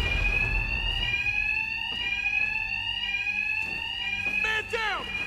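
A building alarm in Batman: Arkham Knight blares continuously, a loud, steady high-pitched siren tone with rhythmic pulses, as a voice talks over it.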